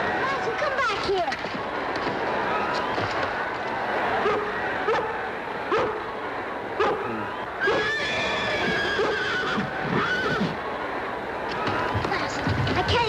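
An injured, spooked horse at a 1961 rodeo whinnies and neighs loudly in repeated bursts, with hoof clatter and movement in the background and people talking throughout.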